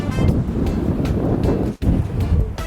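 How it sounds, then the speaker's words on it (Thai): Strong sea waves roar onto a beach in Rayong, a loud continuous wash of surf mixed with heavy wind buffeting the microphone. "ชายหาดสวยเลยครับแต่คลื่นมันแรงไปหน่อยครับ"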